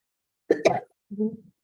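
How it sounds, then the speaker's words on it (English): Two quick, sharp coughs close to the microphone, followed by a shorter, softer throaty cough. "I apologize for my cough."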